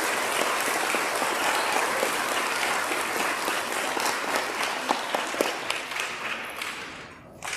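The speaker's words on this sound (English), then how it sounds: "Let's give him a round of applause" Graduation ceremony audience gives a dense, sustained round of clapping that holds steady before thinning and fading out near the end.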